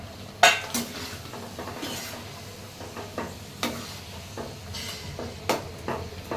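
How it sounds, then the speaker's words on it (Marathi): Mutton is sautéed in ground masala and oil in a pan. A spoon clinks and scrapes against the metal in irregular strokes over a faint, steady sizzle, close up, with no speech. "आता आपण हे मटण घालून घ्यायचं त्यामध्ये चांगलं परतवून घ्यायचं आहे"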